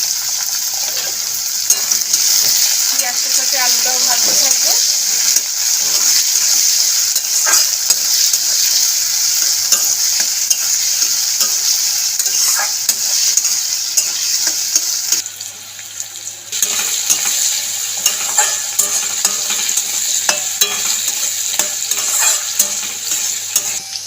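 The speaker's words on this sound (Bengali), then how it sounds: "আলুটাও লাল লাল করে ভাজা হয়ে গেছে" Potatoes and onions fry in a pan for an aubergine dish, a constant loud close sizzle with occasional stirring scrapes, briefly dipping before resuming.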